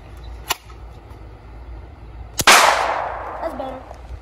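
A military gun in a video game fires: one faint short crack early, then a loud sharp shot with a long ringing, fading tail about halfway through.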